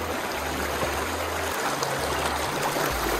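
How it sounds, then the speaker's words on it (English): A fast, intense river stream rushes and churns in a steady, dense roar of flowing water, close and continuous with no voices. "Look how intense this river is."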